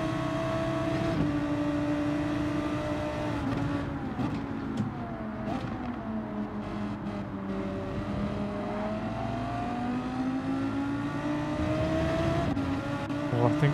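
Race car engine in Gran Turismo 7 during an online race, a steady loud drone that rises and falls in pitch as the car accelerates and shifts gears, continuous throughout with no speech.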